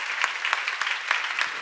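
A church congregation clapping along during a sermon, a steady patter of many hands with rhythmic accents, moderately loud and close, with no speech over it.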